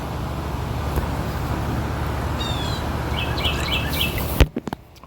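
Outdoors, a few high, quick bird chirps come in short bursts over a constant background rumble of road traffic, fairly faint, before the sound cuts off abruptly near the end.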